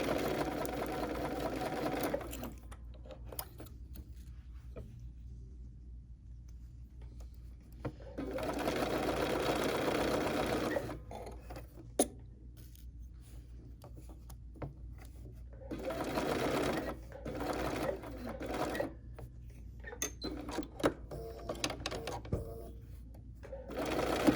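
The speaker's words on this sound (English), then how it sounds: "Here we go, continuing with the sewing." A Bernina sewing machine stitching in several long runs, its fast steady whir starting and stopping with quiet pauses between bursts.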